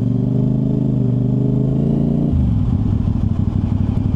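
A motorcycle idles and rumbles close by at a Honda big bike dealership grand opening, a steady low engine drone that shifts to a choppier, pulsing throb partway through, with no talk.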